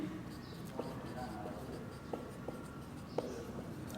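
Chalk or marker scratches across a classroom board during a Hindi biology lecture, soft intermittent strokes and taps heard faintly under room noise.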